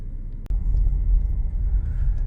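A car drives into Lake Sumter Landing in The Villages, Florida, with a steady low road rumble throughout. A brief knock sounds near the start.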